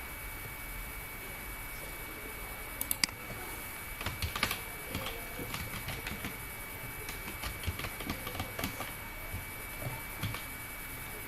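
Keys clatter on a computer keyboard while an address is typed into Microsoft Word, with irregular bursts of close clicks building into a steady patter after a brief pause, over a faint constant hum.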